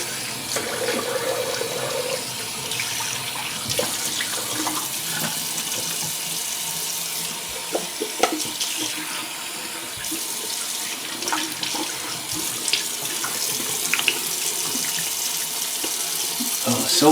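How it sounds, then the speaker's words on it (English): Water running steadily from a tap while a shaving brush is rinsed, a loud close continuous splash with small clicks and shifts in the flow as the brush moves through the stream. "Let's give it a rinse."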